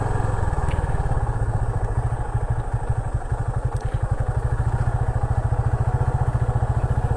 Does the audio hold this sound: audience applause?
no